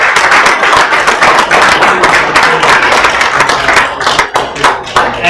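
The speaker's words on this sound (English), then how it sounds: "I want to give a great big round of applause to David Thompson" An audience at a tech talk on big data analytics with MariaDB ColumnStore gives a loud, close round of applause for a speaker, dense clapping that thins slightly toward the end.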